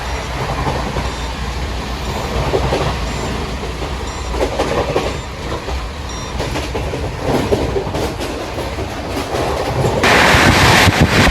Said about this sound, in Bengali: আমাদের ট্রেন ফ্ল্যাট 130 চলছে।